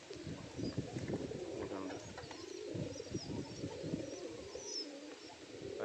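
Pigeons coo steadily on a rooftop. Their soft, throaty calls overlap in a continuous rolling murmur, with a few faint chirps above, near and without any talk.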